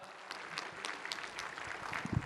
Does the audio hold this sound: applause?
yes